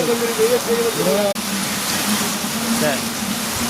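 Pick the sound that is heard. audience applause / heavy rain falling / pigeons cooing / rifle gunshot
heavy rain falling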